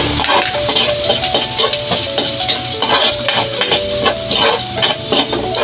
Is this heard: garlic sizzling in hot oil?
yes